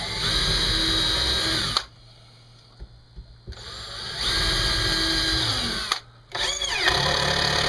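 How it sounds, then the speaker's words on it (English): A power drill whirs loudly in two long bursts separated by a pause, pre-drilling holes in wood, with brief clicks and a short spin-down in between. "Pre-drill most of all these holes so that nothing splits out on me."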